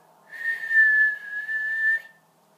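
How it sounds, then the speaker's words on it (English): A person whistles one long, steady high note that wavers slightly, held for about two seconds, close and clear with no talking. "And this is how you whistle."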